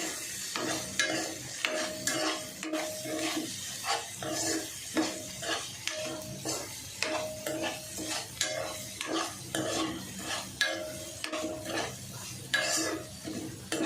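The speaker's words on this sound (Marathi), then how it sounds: "कॉर्न जरा जवळजवळ दोन ते तीन मिनटं व्यवस्थित परतून घ्यायचे" Corn kernels sautéed in a pan, a steady frying sizzle under rhythmic spatula scrapes and stirring strokes repeating about every second, close and fairly quiet, no talking.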